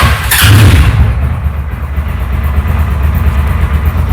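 A Hojan Evo 200 motorcycle engine starts with a loud burst and then settles into a steady, rumbling idle that continues close by.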